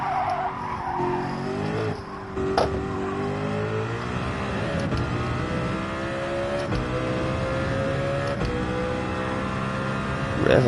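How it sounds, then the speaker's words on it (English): A race car engine revs and whines at high pitch through a lap in Gran Turismo 7, steady gear-changing tones with tire squeal and skidding, loud and continuous with some voices faintly underneath. "Rev it out now at the start of the lap"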